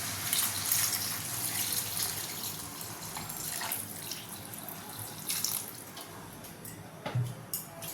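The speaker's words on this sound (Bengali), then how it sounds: "এবারে আমি এর মধ্যে জল দিয়ে দেবো।" Water poured into a cooking pot of spiced oil and potatoes for a Bengali prawn curry, a steady rushing splash throughout, fairly soft and close, with no voices.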